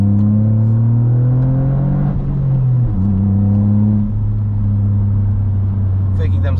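A Toyota GR Yaris engine pulls hard and rises in pitch, drops briefly as the gear changes, then climbs again, steady and close-up throughout.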